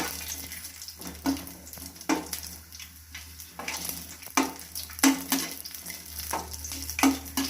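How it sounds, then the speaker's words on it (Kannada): Cashew nuts frying in oil in a pan for shavige upma, a soft steady sizzle broken by repeated scraping stirs and a few clinks, heard close with no one talking. "ಗೋಡಂಬಿ ಇದ್ದೀನಿ ಅದನ್ನ ಚೆನ್ನಾಗಿ ಫ್ರೈ ಮಾಡ್ಕೋಬೇಕು"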